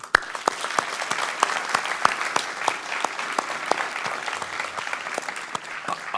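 Conference audience applauding its organisers, a steady dense patter of many hands with sharper individual claps standing out, continuous and fairly close for the whole stretch.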